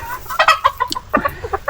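Chickens cluck repeatedly on a farm, several short close calls in quick uneven bursts with no talk over them.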